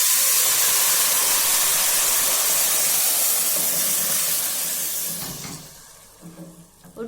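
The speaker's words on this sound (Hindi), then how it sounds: "अब हम फ्लेम को ऑफ करके तो जो सीरम रेडी किया था वो आहिस्ता आहिस्ता इसके अंदर डाल देते हैं।" Syrup poured into semolina frying in ghee for suji halwa sets off a loud, steady sizzling hiss that fades after about five seconds into quieter crackles and spoon scrapes.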